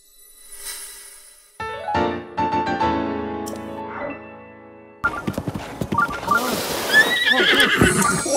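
A horse in the video game Zelda Breath of the Wild gives a loud whinny after a brief faint start, followed by snorts and clip-clop hoof sounds with clattering game effects.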